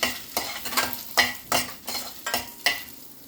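Garlic, dried chilies and curry leaves fry in a pan under a soft sizzle, with about seven rhythmic scraping strokes of a stirring spoon, each one a distinct swish.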